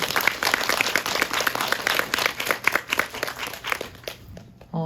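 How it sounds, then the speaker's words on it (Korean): Cinema audience applauding at a Lotte Cinema World Tower guest-visit talk, a dense burst of many hands clapping that fills the room, then tapers off near the end as a voice begins. "박수 한번 보내주세요."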